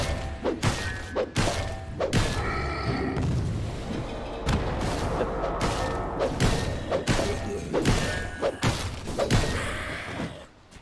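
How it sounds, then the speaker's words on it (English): Dota 2 tower under attack during a professional match, with repeated heavy thuds and impacts striking at a steady rhythm over a busy game soundscape, with little talk. "Radiant's bottom tower is under attack."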